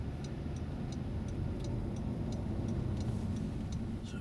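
Regular car turn-signal indicator ticking at a steady rhythm, around a dozen faint clicks, over a constant engine and road rumble inside a moving car during a driving lesson in busy traffic near a roundabout.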